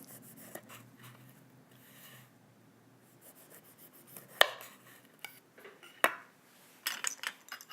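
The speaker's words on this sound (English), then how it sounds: "I'll cut off the ends." Knife trimming the ends off a kiwi on a cutting board: a few sharp, separate clicks and taps against the board amid quiet handling rustles, close and fairly soft.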